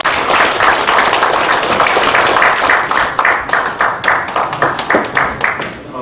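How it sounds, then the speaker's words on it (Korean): Loud audience applause at a South Korean political party farmers' rally, a dense burst of clapping that thins toward the end into scattered individual claps. "뜨거운 박수로 모시도록 하겠습니다."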